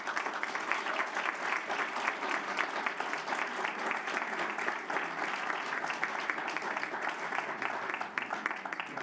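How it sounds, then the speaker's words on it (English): Steady, even applause from an audience at a school district board meeting for an educator award winner, continuous moderate clapping heard from across the room. "please help me in another round of applause for our 2017 Yale Educator Award winner"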